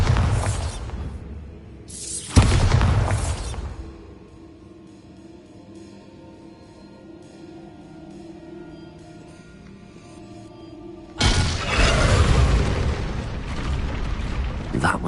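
Bombarda spell blasts in Hogwarts Legacy, two loud booming explosions with a sharp crack at the start and another after a long low rumbling pause, each fading into a dull roar.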